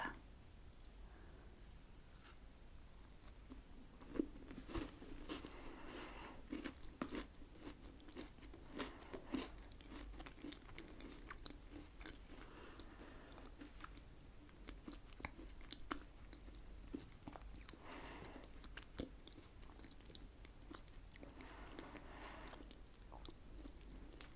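Close, quiet biting and crunchy chewing of a dark chocolate Girl Scout cookie, steady mouth sounds with scattered crisp crunches and no talking.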